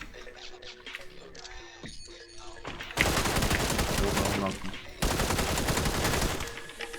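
Bursts of rapid gunfire in the video game PUBG erupt loudly for several seconds, with someone speaking and some clicking before the shooting starts.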